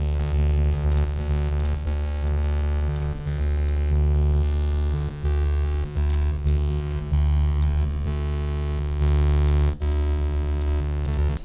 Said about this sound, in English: See how it just sounds glitchy and weird.